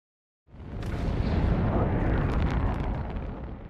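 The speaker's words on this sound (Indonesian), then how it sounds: "Namun, roket itu justru meledak dan mengarah menuju daerah perkotaan." A rocket explodes in the animated Superman film Man of Tomorrow, a sudden loud blast that swells into a sustained, roaring rumble with crackling bursts, fading slightly toward the end.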